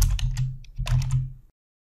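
Quick bursts of keystrokes on a computer keyboard while entering header text in Excel 2016, a short close clatter of several taps that stops abruptly.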